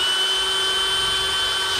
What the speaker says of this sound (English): I'm going to start by just drilling all my holes